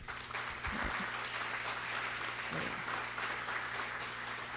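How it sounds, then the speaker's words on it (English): An audience gives a sustained round of applause, dense and even clapping filling the room throughout at a fairly soft level. "Please join me in thanking them with a round of applause."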